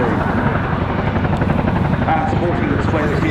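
A Royal Air Force Boeing Chinook HC6 twin-rotor helicopter performs a flying display at an air show, its loud continuous rotor thrum and turbine roar steady throughout, with an announcer talking over it.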